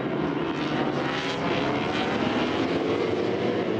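Roar of MotoGP racing motorcycles at the San Marino Grand Prix around a crash involving Dani Pedrosa, a loud continuous engine drone with no voices.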